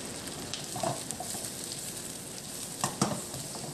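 Onions fry in butter and oil in a pan, a faint steady sizzle with a few soft stirring knocks and clicks.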